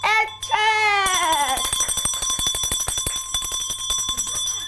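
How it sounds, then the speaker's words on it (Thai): A small handbell is shaken, starting with two bright struck rings and then breaking into a rapid, steady jingle that carries on for several seconds, loud and close, with a sustained high ringing tone underneath. "แล้วก็เขย่ากระดิ่งด้วย"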